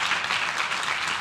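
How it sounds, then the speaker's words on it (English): Crowd applause at a Santa Ana city council meeting honoring the United States Postal Service, a dense steady wash of clapping from a large room, moderately loud and continuous with no voices on top. "Please give a round of applause to the United States Postal Service"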